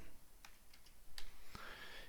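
A few light, quiet keystrokes on a computer keyboard, with soft separate clicks spaced irregularly over about two seconds in a quiet room.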